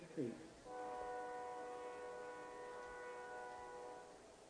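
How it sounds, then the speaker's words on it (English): A train horn sounds from an old locomotive rolling through town near a junior high football game. It blows as one long, steady, multi-tone blast lasting several seconds, heard at a moderate distance after a brief voice at the start. "You can hear the train whistle on the old 539 rolling through town"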